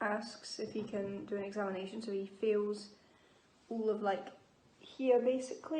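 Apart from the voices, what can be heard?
No distinct noise like a dog, phone or traffic.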